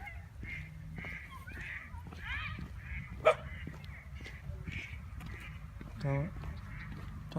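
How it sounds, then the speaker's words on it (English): Ducks quacking and honking outdoors on a walk, several short calls scattered through the clip amid steady background noise and occasional voices. "The ducks are harmless."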